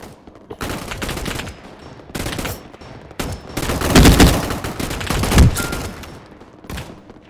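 Loud, close gunfire in the Roblox game Gunfight Arena, with repeated bursts of automatic shots separated by short pauses and a heavier booming volley in the middle, with no talking.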